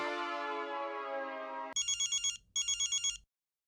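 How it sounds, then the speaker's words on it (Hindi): Telephone ringing over a speakerphone call: a sustained electronic tone, then two short bursts of trilling rings that stop abruptly, clear and alone with no talk. "पोपटलाल को फोन लगाता हूँ"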